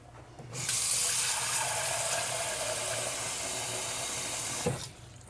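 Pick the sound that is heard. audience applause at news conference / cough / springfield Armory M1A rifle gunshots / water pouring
water pouring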